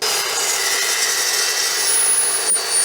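Saw blade slicing through 1/8-inch square metal tubing with light, steady pressure, a continuous bright high-pitched cutting whine held close and loud for the whole stretch, with a brief rasp near the end.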